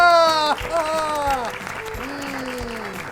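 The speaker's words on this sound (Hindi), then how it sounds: "तालियां।" Applause greets a correct answer on a children's fun-learning quiz show, a steady clapping wash blended with prominent music and voices for a few seconds.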